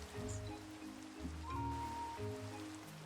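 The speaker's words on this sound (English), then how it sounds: "hopefully the rain will stop" Steady rain patters in a Minecraft world at nightfall, a soft continuous hiss of drops with low-pitched game background tones humming underneath, quiet and even throughout with no voices.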